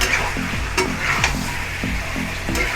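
Chicken curry with potatoes sautés in a pan, a loud steady sizzle with repeated rhythmic scraping strokes of a spatula roughly every half second, close up with no talk.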